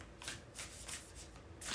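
A deck of tarot cards is shuffled in several quick, soft riffling bursts, each a brief papery flutter repeating in an uneven rhythm, close by and without speech.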